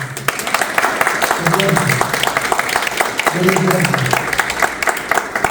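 A church congregation at a Spanish-language service applauds with steady, dense clapping that runs throughout, while a voice speaks over it.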